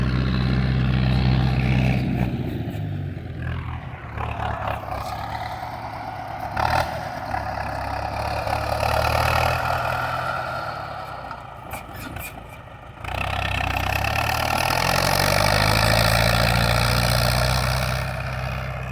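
Tractor engine running steadily in a field during planting of Chinese cabbage, a loud low rumble throughout with a brief dip and scraping near the middle, then rising again.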